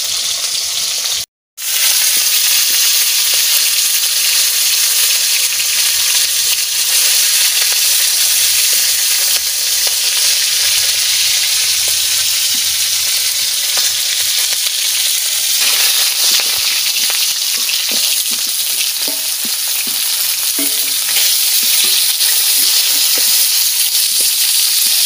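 Fish fries in a pan of oil with a loud, continuous sizzle and hiss that runs on for the full stretch, broken by one brief cutout near the start; no voices.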